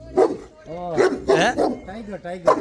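A dog barks several times in quick uneven bursts, close and fairly loud, with harmonic yelps mixed among nearby voices.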